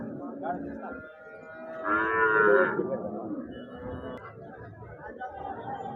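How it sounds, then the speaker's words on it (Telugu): A single loud moo from a local cow rises in the middle, drawn out and tonal, over a steady murmur of people talking and chatter at a cattle market. "మన లోకల్ ఆవు అండి"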